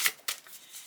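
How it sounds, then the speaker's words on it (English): Tarot cards are shuffled in a couple of quick papery riffles, close and soft, with faint flutter between them. "So I'm going to shuffle the cards"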